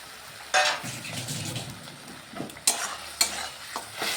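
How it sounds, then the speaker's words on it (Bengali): Masala for a paneer-free paneer kalia sautéing in a pan, a steady close sizzle under repeated scraping stirs, with several sharp utensil clinks against the pan. "এবার আমি ভালোভাবে মশলাটাকে কষিয়ে নিচ্ছি।"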